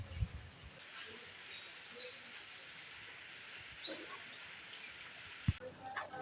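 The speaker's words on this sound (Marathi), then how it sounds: "पहिल्यापासून नुसतो पाऊस जोरदार चालू आहे बघा" Heavy rain falls outside a shop in the Konkan, a faint, steady wash of hiss with a few scattered louder drips and knocks, heard from some distance with no talk.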